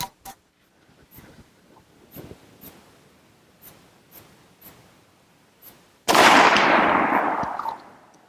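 .375 H&H rifle loads being fired: a loud, close report near the end with a long decaying rumble, preceded by several faint clicks and small knocks.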